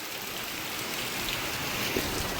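Heavy rain pours down in Siddhpur in a dense, unbroken roar that stays loud and even, with no voices over it.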